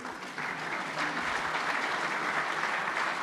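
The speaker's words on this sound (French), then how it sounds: "Un tonnerre d'applaudissements pour Jacques Duperron." A crowd applauds steadily at a sports awards ceremony, a dense wash of clapping that swells slightly after the first moment and holds at a moderate level.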